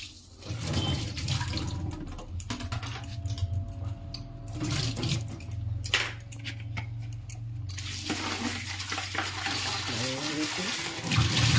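Eggplant being rinsed under a running kitchen tap while preparing roasted eggplant, a steady close rush of water splashing in a sink for the whole stretch, with brief handling noises and no talk.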